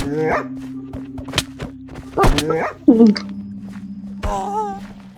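A dog in a survival video game gives sharp yips and short barks mixed with high whining whimpers, in irregular bursts close up, with people talking in between.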